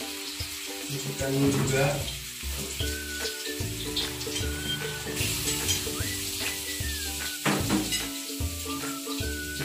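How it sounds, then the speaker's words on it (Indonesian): Ground spice paste for Soto Lamongan sizzles and spits steadily in hot oil, with occasional stirring, while a person speaks briefly over the frying. "Kita masukkan bumbu yang udah dihaluskan"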